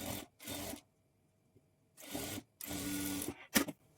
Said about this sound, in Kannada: ಎಡ್ಜ್ಗೆ ಸ್ಟಿಚ್ ಮಾಡ್ಕೊಳ್ಬೇಕು